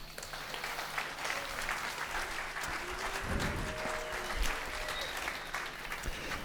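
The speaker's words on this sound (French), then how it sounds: "que je vous demande très chaleureusement d'applaudir" Sustained applause from a large crowd, steady and dense throughout, with a faint tone and some murmuring underneath.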